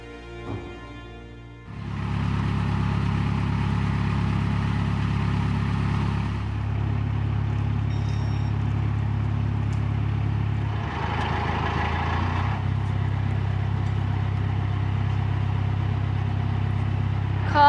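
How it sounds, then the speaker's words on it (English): Cars drive past near a swing bridge over a canal, a steady loud engine rumble with a rising swell partway through as a vehicle passes close. "Cars are still moving."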